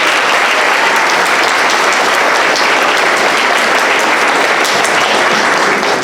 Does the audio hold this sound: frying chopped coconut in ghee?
no